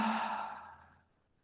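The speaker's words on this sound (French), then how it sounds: "On ouvre la bouche, on expire longuement." A long, slow exhale through the open mouth during a yoga twist, a breathy sigh that starts full and steadily fades to silence over about a second.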